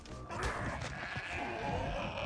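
A sheep bleats in the video game ARK: Survival Evolved, a single drawn-out bleat over a steady, fairly loud game ambience with no talk.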